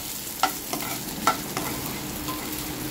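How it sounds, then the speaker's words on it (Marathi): Onions frying in a little oil over a medium flame, with a steady close sizzle and a few sharp clinks of the spatula stirring against the pan. "मीडियम फ्लेमवर कांदे भाजून घेणार आहे मी।"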